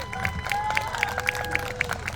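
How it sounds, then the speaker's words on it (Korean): A crowd at an outdoor election-fraud rally claps in unison, a steady rhythmic beat of about four claps per second, with crowd noise and sustained tones running underneath. "우리 감사의 뜻으로 박수 한번 보내주시죠."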